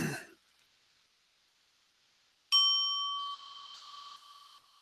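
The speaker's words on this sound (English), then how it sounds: "noticing the sound of the bell" A single clear meditation bell strike rings out after a quiet pause, its bright tone lingering and slowly fading; a brief breathy sound comes at the start.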